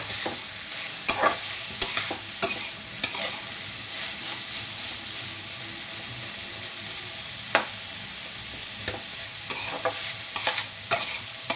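Onions frying in a pan for Maggi with egg and vegetables: a constant sizzle broken by repeated sharp scraping strokes of a spatula, close and clear, with no voices.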